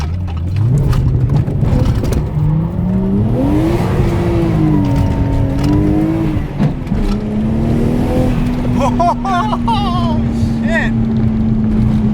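A Toyota SC300 engine revving hard toward the rev limiter, loud and close, its pitch climbing, wavering, then holding a high steady drone, with voices over the top.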